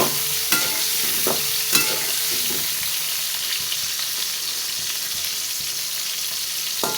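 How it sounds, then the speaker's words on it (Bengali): Pointed gourd pieces coated with salt and turmeric sizzle steadily in hot oil in a pan, with a few sharp scraping stirs near the start and a constant hiss throughout, no talking. "তেল গরম হয়ে গেছে, এতে লবণ হলুদ দিয়ে মাখায় রাখা পটলগুলো সব ভেজে নেব।"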